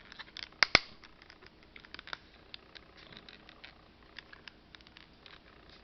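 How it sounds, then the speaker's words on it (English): Small scissors on a pocket knife snip quietly at close range, with a couple of sharp clicks near the start followed by faint, irregular ticking and rustling handling sounds. "And the scissors cut pretty good."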